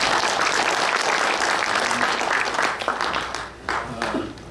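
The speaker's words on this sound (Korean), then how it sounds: "큰 박수로 맞아주시기 바랍니다." Steady applause from an audience at a book launch lecture at the Korea Press Center fills the room, dense and continuous, tapering slightly near the end.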